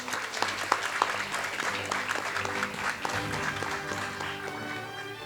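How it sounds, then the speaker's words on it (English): Applause from a graduation ceremony audience, a steady patter of many hands clapping at moderate volume, continuing evenly for several seconds. "So if we can give them one more round of applause"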